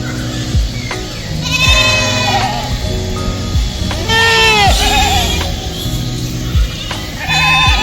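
Sheep bleat repeatedly and loudly at close range on a resort animal farm with deer and cockerels, several overlapping wavering calls over steady farmyard background noise.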